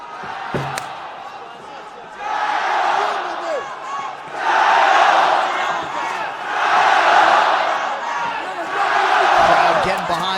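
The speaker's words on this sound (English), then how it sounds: "Crowd getting behind the Dong Bay Tiger" A fight crowd roars in swelling waves behind Dong Bay Tiger Wang Guan during his bout with Alex Caceres, the loud arena cheering rising and falling with a few sharp shouts and a thud near the start.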